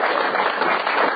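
A brief burst of crowd clapping rises at a speech event in Blackpool, short and fairly loud with no talk over it.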